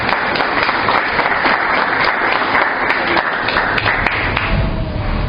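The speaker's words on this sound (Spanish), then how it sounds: "Démosles un fuerte aplauso de bienvenida." A congregation gives a strong welcoming applause during a church service: sustained, loud massed clapping with a few sharper claps on top, continuing without pause and without talk.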